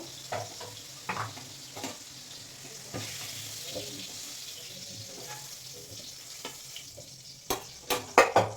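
Pumpkin pieces sizzle in hot oil with a soft steady frying hiss, broken by scattered utensil clinks, then several sharp knocks and scrapes toward the end as the pieces are lifted out of the pan.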